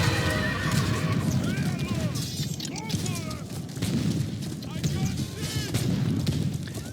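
Winged hussar cavalry charging in a video game battle: loud, continuous neighing and whinnying horses over a dense rumble of hooves, with scattered booms and gunfire mixed through the massed charge.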